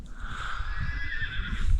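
A horse whinnies in a loud, drawn-out neigh on open Mongolian grassland among a gathered herd of sheep, horses and goats, with low rumbling wind and ground noise underneath.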